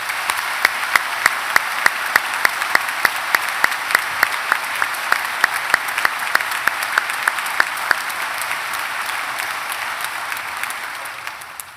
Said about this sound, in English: I'd like to invite the congregation one more time to give a massive round of applause to Dr. Alex